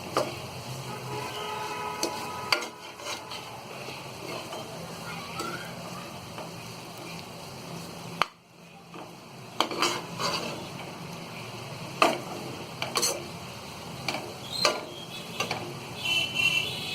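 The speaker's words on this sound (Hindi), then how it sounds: "फ्राई की हुई अरबी डाल देंगे। इसे हम अच्छी तरह मसाले में मिक्स कर लेंगे।" Fried arbi (taro) being stirred into dry masala in a pan, giving repeated scraping clicks and soft sizzling at close range in an irregular rhythm, with a brief quiet gap partway through.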